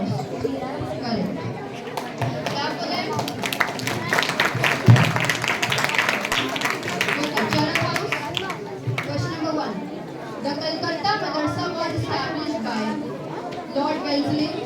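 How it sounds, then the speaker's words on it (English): Classroom of students clapping after a correct quiz answer, a dense steady patter of applause mixed with chatter lasting throughout, with voices talking over it. "Clap for them."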